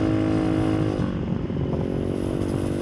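A Honda Helix 250cc engine swapped into a Honda Ruckus scooter cruises uphill at about 55, a steady, loud, buzzing engine drone with wind noise and no talking.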